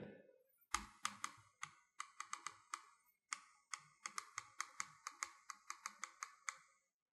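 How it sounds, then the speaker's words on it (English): Sharp, high-pitched clicks from the integrated trackpad of an ASUS VivoBook S15 S533 laptop, about two dozen pressed in quick irregular bursts, close and loud in an otherwise quiet room. "it just gives off this kind of high-pitched, loud clicky noise when you click on it"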